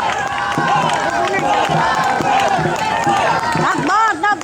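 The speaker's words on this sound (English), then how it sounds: "Let's have a big round of applause for the team in race number 13" Crowd at a dragon boat race cheering, whooping and clapping loudly without pause, with shouting voices and bursts of excited yelling layered over the noise.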